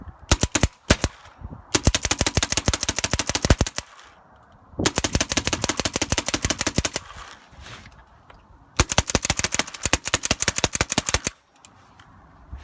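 A custom Autococker paintball marker with the hopper running fires long rapid strings of sharp, loud cracking shots, three bursts each lasting a couple of seconds, separated by short quiet pauses.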